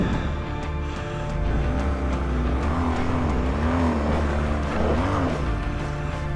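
A race car engine revs hard and steadily up close, a loud continuous roar with a wavering pitch rising and falling, plus faint tire noise, on an off-road course.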